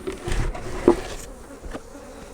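Bees hum and buzz briefly nearby around a late-season nuc hive, a short burst of insect droning with a louder pass in the middle.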